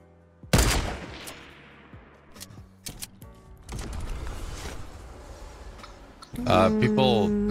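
Gunfire in the Fortnite battle royale game: sharp bursts of shots and rapid volleys, some near and loud, others distant, with game effects and a player talking.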